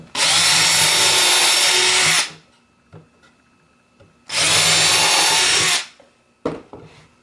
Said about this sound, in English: So I'm going to drill 2 pilot holes.